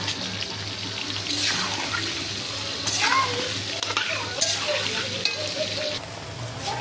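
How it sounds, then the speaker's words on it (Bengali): Potato pieces frying in oil with turmeric in a pan, a continuous close sizzle broken by scraping stirring strokes and clinks of a spatula, with occasional faint voices in the background. "আলু ভাজা বসিয়ে দিয়েছি।"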